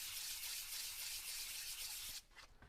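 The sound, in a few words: sanding with 320 grit sandpaper in circles on flat surface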